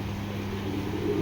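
Bezi-breed pigeons coo in a pigeon loft, a soft low continuous cooing close by with no talk over it.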